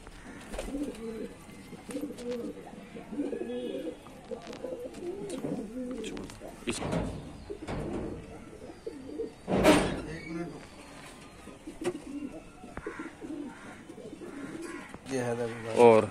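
Soft, repeated coos of Lalban pigeons in a low murmuring rhythm, close by, with a sharp clatter partway through and a brief burst of noise at the end.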